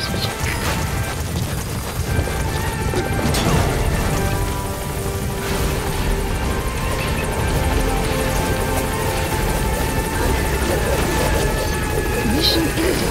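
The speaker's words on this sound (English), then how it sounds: "Support helicopter has arrived." Support helicopter in the video game Metal Gear Solid V, a loud, dense rotor and engine roar that continues throughout, with a thump or impact partway through and radio-style game voices over it.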